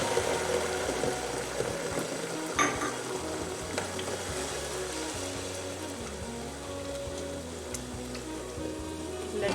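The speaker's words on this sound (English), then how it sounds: "Now let's add the tomato sauce." Tomato sauce poured into a hot frying pan for Italian baked pasta, giving a steady, fairly loud sizzle and bubbling hiss with occasional stirring scrapes throughout, no voices.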